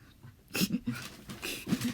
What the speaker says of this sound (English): And here's my dog.